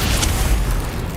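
A Confringo blasting curse explodes in the wizarding game Hogwarts Legacy, a loud, deep, rumbling boom that holds the whole short moment.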